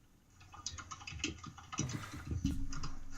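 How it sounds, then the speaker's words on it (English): Typing on a computer keyboard, a quick irregular patter of key clicks that grows louder and denser toward the end, with no talk over it. "What is all this typing?"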